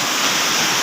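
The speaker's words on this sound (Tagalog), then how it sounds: "Ayun tubig na nanggagaling sa pinakatuktok." Water plunging from the clifftop at Geiranger, Norway, as a waterfall, a steady broadband hiss and roar with no break, heard close and loud.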